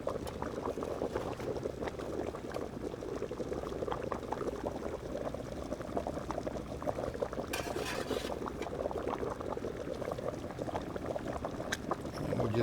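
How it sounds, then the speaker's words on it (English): Salmon simmering in a Tuscan-style cream sauce in a pan, a steady low bubbling burble with a brief splash partway through, continuing alone without talk. "This is now the perfect time to add our salmon."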